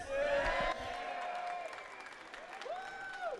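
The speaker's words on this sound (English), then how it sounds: "Let's give a round of applause for everyone here." Audience applause at the grand final of a KOF XV fighting game tournament, a soft, fairly distant patter of clapping beneath tonal announcer and crowd sounds.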